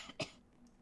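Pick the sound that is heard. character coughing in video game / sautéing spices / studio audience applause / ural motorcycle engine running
character coughing in video game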